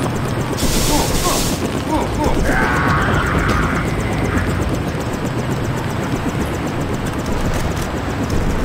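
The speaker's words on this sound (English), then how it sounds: "A a chopper is arriving with Agent Herman on board." A helicopter arrives in the video game Deus Ex: a loud, steady rotor roar with a fast rhythmic chop that stays close and constant throughout.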